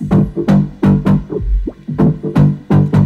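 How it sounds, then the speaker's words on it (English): A gritty, pulsing low-mid bass line made by vocoding a drum loop rides a steady drum loop, crunchy and throbbing with a repeating rhythmic pattern, no voices. "So I kind of went for the guitar kind of low mid sort of thing,"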